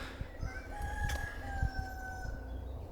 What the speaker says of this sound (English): the turkeys are going to walk off with the tripod, and it's all going to look very sketchy. They're right under the tripod.